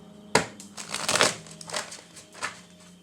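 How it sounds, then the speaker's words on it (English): Close crinkly shuffling of tarot cards, a sharp riffle onset followed by several softer rustling bursts, with no talking. "Let me shuffle these up."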